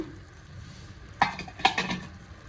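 Vegetables, millets and soaked toor dal are stirred in a pot, faint background noise broken by two sharp metallic scrapes and clinks of a utensil against the pot.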